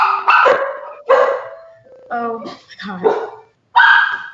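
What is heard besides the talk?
dogs barking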